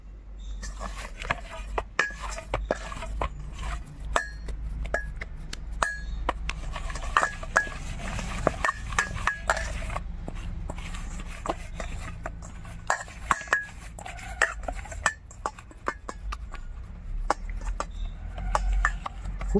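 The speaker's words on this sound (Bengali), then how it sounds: "আর আমি মাখিয়ে নেব, হাতে তো অনেক গরম লাগবে, তাই চামচে" A spoon mixing rice flour dough with hot water in a bowl for steamed bhapa pitha: repeated light scrapes, clinks and taps against the bowl in an uneven rhythm, close and fairly quiet, continuing throughout.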